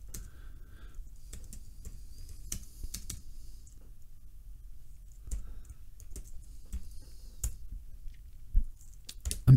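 Computer keyboard being typed on to enter a git clone command, irregular bursts of close, crisp key clicks with short pauses between, quiet and dry with no voices.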